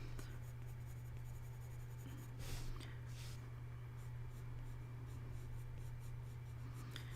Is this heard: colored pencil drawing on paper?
yes